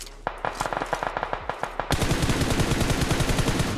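Rapid automatic gunfire in the battle royale game PUBG, a first burst of separate sharp shots giving way to a dense, loud, continuous stream of close-range fire with no talking.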